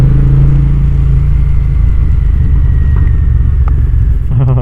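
Toyota Hilux on a soaking-wet monsoon road, its engine rumbling steadily and loudly up close, with a few sharp exhaust pops and cracks breaking through toward the end.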